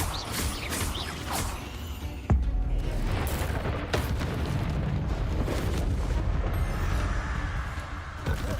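A Confringo fire-blast spell in Hogwarts Legacy goes off with a sharp, loud burst, then a sustained roaring rumble of blast and debris, with further muffled thumps and magical effects.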